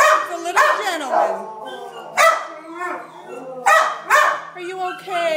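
A dog barks and yips in short repeated bursts, close and fairly loud, with whimpering tones between the barks.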